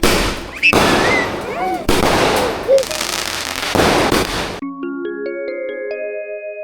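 A rapid string of loud firecracker bursts crackling close by during Vishu celebrations, followed by a few seconds of bright, chiming music.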